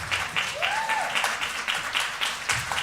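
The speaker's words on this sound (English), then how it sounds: "could we just give a round of applause to the shepherd of this house, Bishop Walter C. Willie?" A church congregation at Prayer Tabernacle applauds for Bishop Walter C. Willie. The clapping is steady and moderately loud, with a faint voice rising briefly beneath it.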